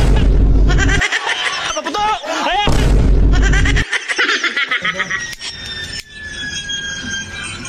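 Firecrackers bursting outdoors, several loud sharp pops and booms spaced over a few seconds, mixed with laughter and excited shouting from people nearby.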